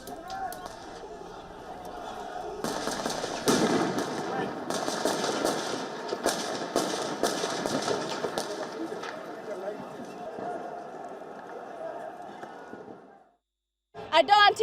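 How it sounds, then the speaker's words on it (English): Sharp bangs and cracks of police gunfire at a street protest in Nairobi, Kenya, scattered through a dense roar of crowd noise and shouting, loud and sustained before an abrupt cutoff. "Police resorted to opening fire on protesters"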